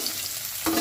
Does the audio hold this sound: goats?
no